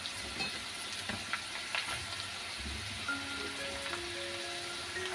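Ridge gourd pieces fry lightly in a pan for a Bengali posto dish, giving a steady, soft sizzle with faint stirring scrapes throughout, close and even, with no talk.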